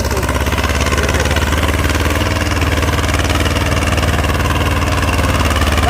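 An old tractor engine pulls a 9-tine cultivator, thumping steadily and loudly with a dense, continuous drone and no pauses.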